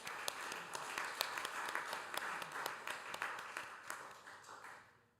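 Audience applause for panelists at a peace conference, a moderate crowd clapping steadily with a few sharper claps standing out, then tapering off at the end.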